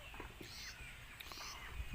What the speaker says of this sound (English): You can listen the sound of birds.